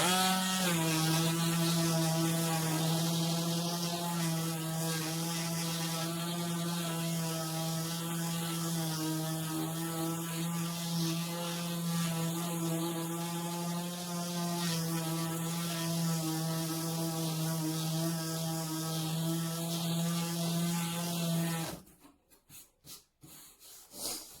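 A small 55-watt vibrating plate sander with coarse-grit sandpaper runs steadily, a loud close buzzing hum with a grinding rasp on top, then switches off near the end leaving a few knocks.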